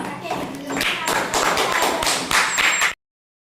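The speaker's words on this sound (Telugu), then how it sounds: "క్లాప్స్ ఇవ్వండి వాడికి గట్టిగా" A class of young students clapping for the winner of a game, a loud, steady round of applause that stops abruptly.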